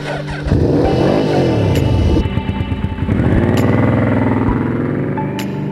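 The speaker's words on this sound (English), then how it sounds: "I've been very fortunate enough to be able to get my hands on an old 1986 Yamaha VMAX" A 1986 Yamaha VMAX 1200 motorcycle ridden hard, its engine revving up loudly in rising sweeps, dropping briefly on a gear change, then climbing again with a deep, rough mechanical roar close by.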